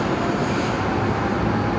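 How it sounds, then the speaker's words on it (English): A train rumbles past near Brisbane Airport in a dense, continuous roar of wheels and carriages, loud and close and holding steady throughout. "Hopefully that train doesn't make any more noises because I just turned the mic up."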